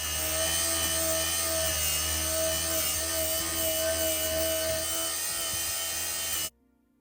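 A steady, loud mechanical whine of a grinder sanding modern cast iron cookware with its safety shield removed, holding an even pitch with a rough grinding hiss, then cutting off abruptly near the end.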